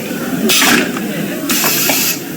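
A pneumatic press in a student lab rig crushes a can, giving two loud bursts of hissing air release about a second apart over a steady background hum.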